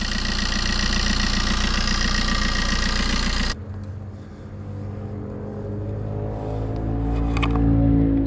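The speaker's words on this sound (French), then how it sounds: "Il tourne bien pour un moteur HS" A Fiat 500 engine with a failing alternator idles steadily up close, a loud rough hum that drops in tone partway through and keeps running with a lighter ticking texture.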